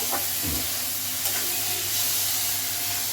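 Chopped onion and onion paste fry in hot oil while being stirred, giving a steady close hiss and sizzle throughout with a brief scrape of the spoon early on; no one speaks.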